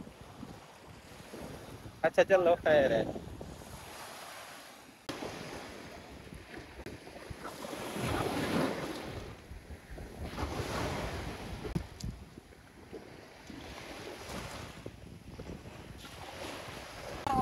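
Wind blowing along a seashore near the Qatar–Saudi border, with surf washing in and microphone buffeting; steady gusty roar rising and falling throughout, with brief speech near the start.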